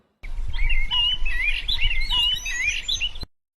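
Birds in a cartoon give a busy run of bright, high chirps and tweets, clear and close, with no talk over them.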